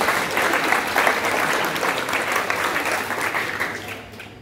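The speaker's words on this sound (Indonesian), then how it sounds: "beri tepuk tangan untuk teman-temannya" Audience applause for students at a school event, a dense steady wash of clapping from a crowd that holds for several seconds before thinning out at the end.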